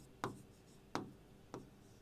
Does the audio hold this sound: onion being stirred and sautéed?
no